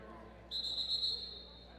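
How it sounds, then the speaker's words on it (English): A referee's whistle at a roller derby bout gives one sharp, sustained blast lasting under a second, with low crowd and arena noise underneath. "that whistle's going to go"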